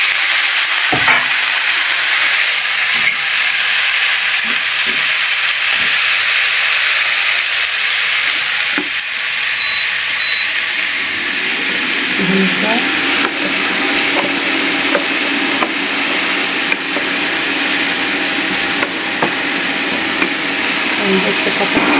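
Potatoes frying in hot oil in a home kitchen, a loud steady hiss and sizzle throughout with occasional clatter, growing busier partway through.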